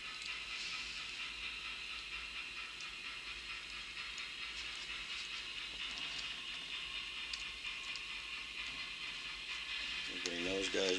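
An N-scale model passenger train rumbles and clatters along at a steady pace with a faint hiss, growing slightly louder near the end as it draws closer.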